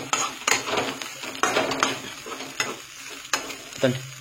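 Leftover rice being stirred and fried in oil in a metal pan, with a steady sizzle under repeated spoon scrapes and clinks against the pan, close and fairly loud.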